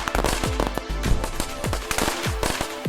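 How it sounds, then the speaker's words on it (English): Sant Joan firecrackers on St. John's Eve in Catalonia, a rapid, continuous barrage of loud bangs, pops and short whistling bursts, dense and close. "there's a bit of a debate going on about how much noise these firecrackers make"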